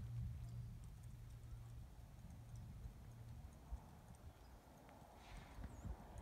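A horse walking during a ranch rail class, faint rhythmic hoofbeats on soft ground heard at a distance over a low steady background hum.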